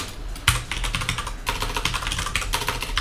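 Rapid keystrokes clatter on a computer keyboard, close and continuous for about three seconds, with one sharper key strike near the start and no talking.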